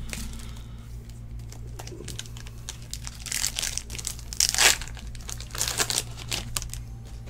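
Crinkling and tearing of 2017 Bowman baseball card packs being opened, irregular crisp rustles building to a louder burst of crackling near the middle, close up with no talking.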